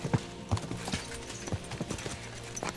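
Horses galloping in the Kingdom Come Deliverance 2 video game, a run of close hoof clip-clops in an uneven rhythm, moderately quiet and without talk.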